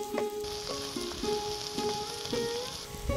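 Garlic, onion and chillies sizzle in a pan for aubergine bharta, a soft steady frying hiss with periodic scraping knocks of stirring, fairly quiet and without talk.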